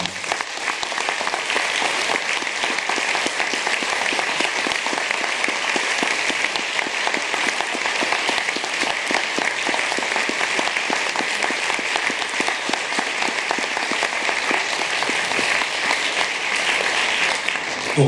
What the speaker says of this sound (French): Donc je vous demande une dernière fois de les applaudir